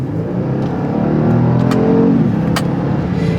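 The 3.3 turbo engine of a 2018 Genesis G80 sedan accelerates hard, a steady, close engine roar that climbs in pitch and then shifts, with faint ticks and clicks over it.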